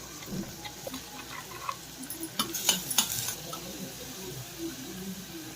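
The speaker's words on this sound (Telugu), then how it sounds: "ఆనియన్ సన్నగా చాప్ చేసుకోవాలి. ఒకటి కలర్ మారేంత వరకు, గోల్డెన్ కలర్ వచ్చేంత వరకు వేపుకోవాలి" Finely chopped onion frying in a pan gives a low, soft sizzle with scattered spoon scrapes and light clinks, close but quiet.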